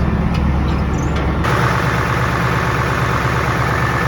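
A Steiger Bearcat tractor's heavy engine runs continuously nearby with a low, rattling rumble; its tone shifts slightly after a second and a half.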